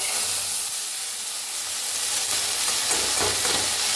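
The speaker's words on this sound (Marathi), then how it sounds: "मटकी भाजून घेऊया हलवून।" Moth beans roasting in a hot wok with a little oil while being stirred, producing a loud, continuous dry sizzle and hiss with faint scraping and rattling of the beans.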